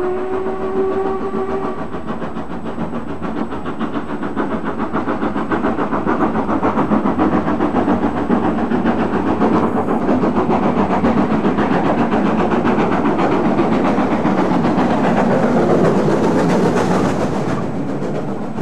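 A preserved LMS express steam locomotive in BR's version of LMS red livery working on the Settle–Carlisle line, with a loud continuous rumble and rhythmic running noise after a short whistle at the start.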